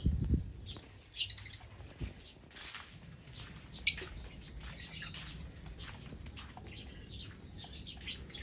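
Lovebirds chirping in a breeding aviary, quiet high twitters and a few sharp chirps over a faint background, with some soft flutters and knocks early on.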